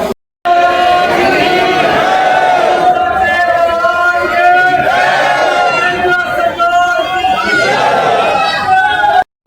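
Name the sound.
crowd of temple visitors chattering in the queue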